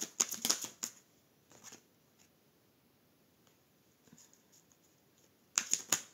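Tarot cards handled and drawn during a reading: a burst of crisp shuffling and flicking at the start, a few soft slides and taps in the quiet middle, then another sharp riffle of cards at the end, close and fairly quiet.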